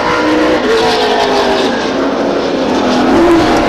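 Race cars lap Stockton 99 Speedway in an SRL event, with loud engines droning and whining past in a sustained roar that rises as a car nears and accelerates, and no voices.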